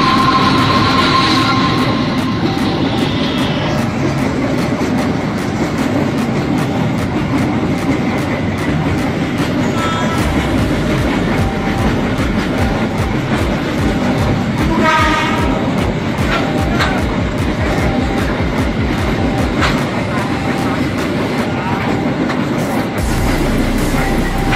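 Two trains race past at speed at a level railway crossing, making a loud continuous rumble with rhythmic wheel clatter over the rail joints and an airy roar close by.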